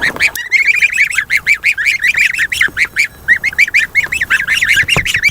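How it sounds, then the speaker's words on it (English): Ducks on the water at a backyard pond, honking and quacking loudly close by in rapid, repeated bursts with no talking. "So the duckies are swimming."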